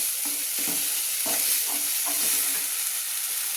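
Spice masala stir-fried in oil in a pan for vegetable khichuri, a steady broadband sizzle with repeated scraping strokes of the spatula at an irregular rhythm, close and fairly loud, with no talking.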